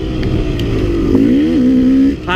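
A KTM 300 XC two-stroke dirt bike engine revs hard on a forest trail, its pitch rising and dipping as the throttle is worked, loud and close throughout with a brief burst of higher noise at the end.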